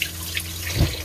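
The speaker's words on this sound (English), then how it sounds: "just wash my hands" Water runs from a kitchen tap while hands are washed, a short continuous splashing rush that swells briefly near the end.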